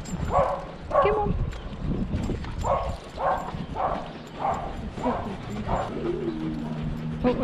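A dog barks in repeated bursts outdoors near grass, fairly close, with a walker's voice and footsteps-like clatter around it.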